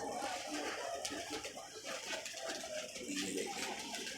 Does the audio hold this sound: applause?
no